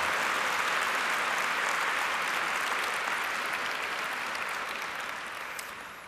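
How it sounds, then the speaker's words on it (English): Sustained applause from an audience at a talk on magic and the brain, a dense, even wash of clapping that fills the whole stretch alone and tapers off slightly toward the end. "can we give him another round of applause?"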